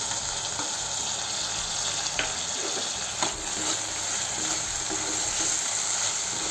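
Tomatoes frying in hot oil with onions and chillies in a pan, a steady sizzle and crackle with a few soft stirring clicks, close and even throughout.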